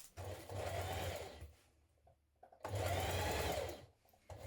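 A sewing machine edge stitches a skirt hem in two bursts of fast, whirring needle chatter separated by a short pause with a few quiet handling sounds, close and without talk.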